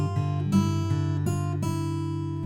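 A G bar chord played fingerstyle on guitar from a song arrangement: plucked notes ring together in a sustained harmonic chord, with a few fresh attacks restriking it, close and clear with no talking.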